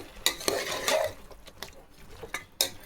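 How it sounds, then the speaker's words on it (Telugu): Mutton pieces fry in oil in a pan, with soft sizzling under repeated scrapes and clinks of a spatula stirring against the metal, several sharp strokes spaced through the quiet. "అంతవరకు బాగా మీరు ఫ్రై చేసుకోవాలా ఆయిల్లో"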